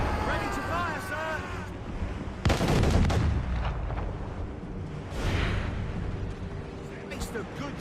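Ship cannons firing in Assassin's Creed Rogue, a heavy booming blast with a long rumbling tail, followed by another softer volley, with shouted commands and whooshing game effects around them.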